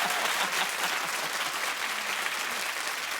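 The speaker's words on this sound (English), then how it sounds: "And for that, I clap." A studio audience on a daytime talk show claps steadily, a continuous even roar of applause heard on its own at moderate level.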